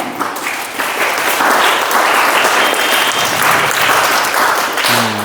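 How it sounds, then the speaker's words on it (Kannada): An audience at a school event where children honour their parents and felicitate the headmaster with flowers breaks into loud, dense applause that holds steady for several seconds before tapering. "ಚಪ್ಪಾಳೆ."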